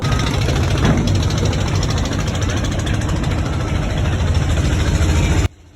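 A passenger launch's engine idles steadily before departing from Sadarghat for Chandpur, a loud, constant low rumble with a faint rattling knock that holds throughout, then cuts off abruptly at the very end.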